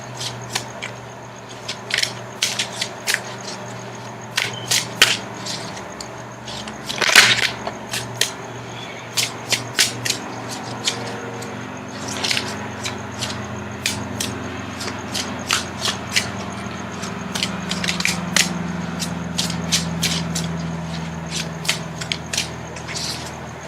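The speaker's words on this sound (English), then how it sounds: "Now I'm going to shuffle for the outcome card." A deck of tarot cards is shuffled over and over, giving quick bursts of crisp riffling and flapping in repeated clusters, close and clear, with a faint low hum underneath.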